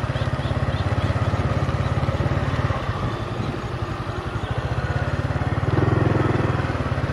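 A motorcycle engine runs steadily nearby with a rough, throbbing low putter that swells slightly toward the end, at an old tobacco warehouse site.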